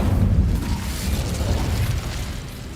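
The Incendio fire spell cast in the Hogwarts Legacy video game, a deep whooshing burst with a low rumbling roar that swells at the start and then slowly fades.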